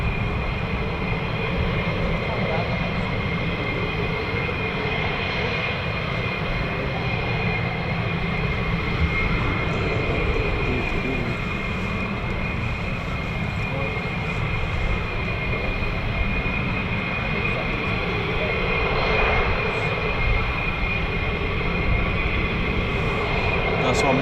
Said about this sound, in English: Two more F-15s